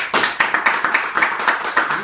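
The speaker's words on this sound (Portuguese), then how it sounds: "Dá uma salva de palma para Jesus." Church congregation clapping in a steady rhythmic beat, roughly four claps per second, moderately loud and consistent with no talk over it.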